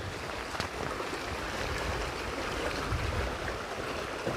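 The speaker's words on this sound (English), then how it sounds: "Oh, the sound of the water is so soothing." A stream near Withypool, Somerset, bubbles and rushes steadily outdoors, a constant broadband water wash with no voices over it.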